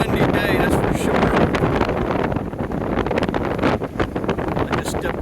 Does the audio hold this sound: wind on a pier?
yes